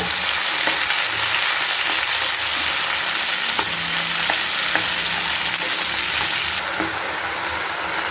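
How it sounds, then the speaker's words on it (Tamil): Garlic, tomatoes and small onions for a spicy chutney sizzle and fry steadily in a pan, with occasional stirring scrapes over a constant crackling hiss and no voices. "பூண்டெல்லாம் வதங்கும் போதே நம்ம தக்காளி சேர்த்துக்கலாம்"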